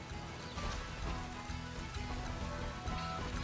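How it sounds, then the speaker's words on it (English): Steady rain falls in the video game Pokémon Scarlet, a soft continuous patter with scattered droplet hits, moderately close and even throughout, with no voices over it. "It's raining."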